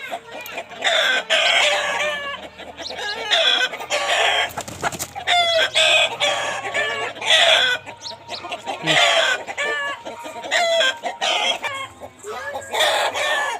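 Several roosters crow loudly, one after another, with busy clucking and chattering of hens throughout; dense, close farmyard noise with no talk.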